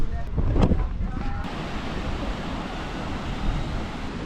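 Ocean surf washes onto a beach in Florianópolis as a continuous broadband roar with wind buffeting the microphone. A brief burst of sound comes near the start.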